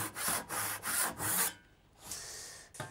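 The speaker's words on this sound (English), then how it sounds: "I'm just going to kick us off on our outer lines only using my handsaw." A sharp tenon handsaw cuts through wood for a dining table in four steady, rhythmic strokes, then pauses before a few lighter rasping strokes resume, close and clear with no talking.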